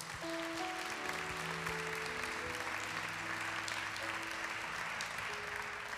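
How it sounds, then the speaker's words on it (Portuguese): A congregation applauds after a Gospel reading during a Catholic broadcast, a steady, fairly distant wash of clapping with faint sustained music tones underneath throughout. "Vamos aplaudir a palavra de Deus."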